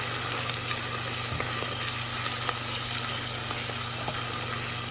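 Yellow onions caramelizing in a pan give a soft, steady sizzle, faint and continuous, with a few light taps and scrapes of a stirring utensil and no voices.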